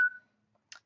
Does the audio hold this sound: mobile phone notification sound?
yes